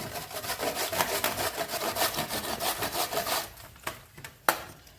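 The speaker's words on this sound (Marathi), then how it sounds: "बघा अशा प्रकारे दोडका किसला जातो" A whole ridge gourd is grated in quick, rhythmic rasping strokes, loud and close. The strokes slow to a few separate scrapes near the end, with no one speaking.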